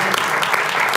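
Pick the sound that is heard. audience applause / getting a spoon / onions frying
audience applause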